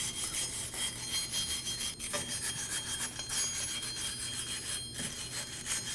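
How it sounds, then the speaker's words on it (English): Wire brush scrubbing rust and debris off the hub of a 2017-2024 Nissan Armada during a parking brake shoe job, a steady rough scraping that runs continuously at close range with slight surges, no talking. "We're gonna use a wire brush, and we're gonna just get rid of all the debris on this area."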